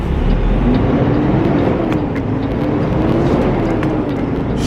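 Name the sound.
car engine while shifting gears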